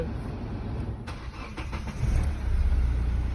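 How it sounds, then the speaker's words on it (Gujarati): A 2010 Hyundai i20 Asta diesel hatchback cranks over with a few quick clicks and catches, then settles into a steady, fairly quiet low idle heard up close. "આ ગાડી ચાલુ થઈ ગઈ છે, સાયલેન્ટ એન્જિન છે"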